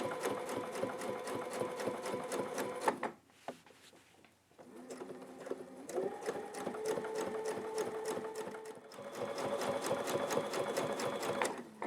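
A sewing machine stitches a quilted feather border in steady rapid runs, with a brief pause near the three-second mark before the stitching resumes and continues loudly to the end.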